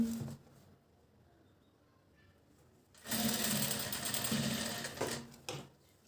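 A domestic sewing machine stitches a piping strip on a blouse, first a short burst, then a quiet pause, then a longer steady run of about two seconds before a couple of brief final bursts.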